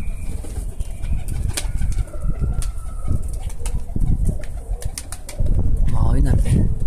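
Tumbler pigeons coo close by with soft, throaty calls, and bursts of wing flapping break in, loud and near against a steady outdoor background.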